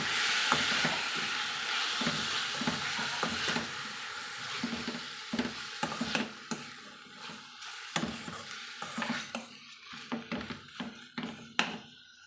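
Marinated chicken is stirred into golden browned onions in a pan for Pallipalayam chicken; a sizzle fades under a series of sharp spoon scrapes and knocks against the pan, close and irregular.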